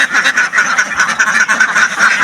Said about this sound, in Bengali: এই যে দেখুন হাঁসগুলো,